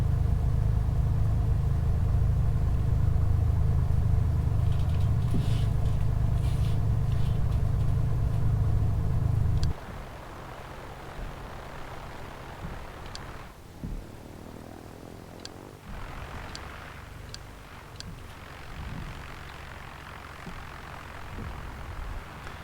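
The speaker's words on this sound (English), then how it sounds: "let's just come off our stand here and taxi towards the runway" Cessna 182 piston engine in the A2A flight simulator, taxiing off the stand toward the runway: a loud, steady low rumble for about ten seconds, then dropping to a quieter idle hum with faint clicks.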